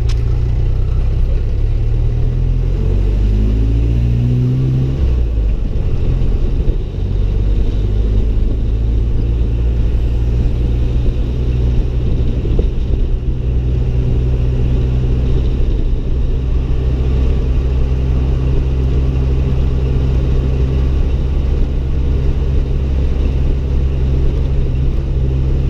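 Triumph TR4A sports car climbing Mt Washington, its engine a steady, loud low rumble held in a low gear throughout, with a slight rise in pitch early on and no voices.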